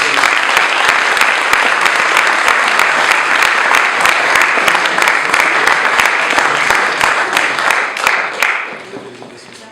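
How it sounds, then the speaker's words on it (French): A crowd at a Bordeaux MBA graduation ceremony breaks into loud, sustained applause, with dense clapping and sharp individual claps standing out, lasting nearly nine seconds before tapering off. "Je vous demande d'applaudir Sylvie Pasquale."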